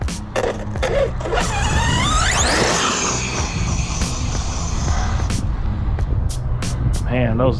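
Losi DBXL-E electric RC car running on rocks, its differentials screaming with rising high-pitched whines over rough driving noise, close and loud, with bursts of mechanical clatter.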